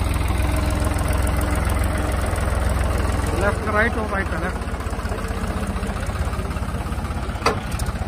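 Kubota and New Holland tractors idling side by side at a tractor pulling contest, a steady low diesel rumble throughout with people talking over it.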